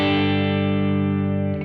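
Electric guitar played through a Kemper profile of a Matchless amp, one sustained distorted chord ringing steadily and loud up close before being cut off near the end, with no voices.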